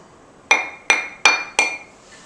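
Four sharp, ringing clinks strike a hard, homogeneous, glass-like material at a steady, slightly quickening pace, each tone decaying briefly before the next; the final one fades into quiet.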